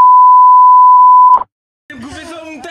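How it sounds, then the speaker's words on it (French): A steady electronic censor beep rings loud and alone for more than a second, then cuts off into a short silence before a voice starts talking. "Non, mettre un bip."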